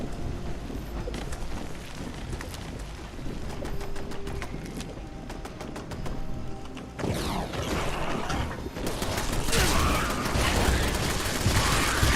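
Automated turrets in the video game Fallout 76 fire a continuous, dense clatter of rapid shots with mechanical rattling. The gunfire grows louder and busier in the second half.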